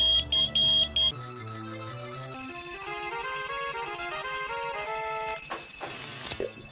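In the video game Perfect Dark, an electronic alarm goes off as a loud repeating chiming melody of rising and falling beeping tones, ending with a brief clatter.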